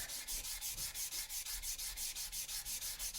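Sandpaper rubs against a wooden pop box spinning on a lathe, a continuous hissing rasp with a fast, even pulsing rhythm, close but fairly quiet, with no speech.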